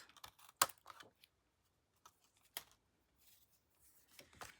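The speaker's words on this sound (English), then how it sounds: "I'm going to take my snips, cut this off, cut this off" Snips cut small pieces off decorative paper for a stamping craft project: a few sparse, sharp clicks and snaps with quiet pauses between them.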